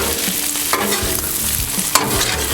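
Onions sizzle steadily on a Blackstone outdoor griddle while being stirred and turned, with a loud, continuous frying hiss and a couple of sharp scraping clatters from a spatula.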